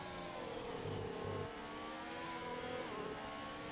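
A race car engine in a racing video game, run in eighth gear below full throttle on a wet track at a Spanish round of a European series. It holds a steady, droning mid-pitched whine with slight rises and no pauses.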